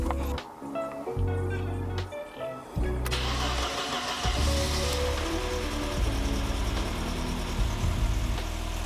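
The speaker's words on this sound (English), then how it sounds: "Now I start the car and check for the result." A Mercedes W124 coupe engine cranks briefly after an oil change, catches and starts, then settles into a steady, loud idle with a rough low rumble.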